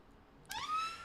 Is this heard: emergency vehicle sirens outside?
yes